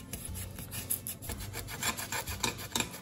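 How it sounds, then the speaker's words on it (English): A cloth is rubbed back and forth over a jar label to take it off, giving close, faint, repeated scratchy rasping strokes in an irregular rhythm, with no talk. "you just rub it and like the label just kind of comes off"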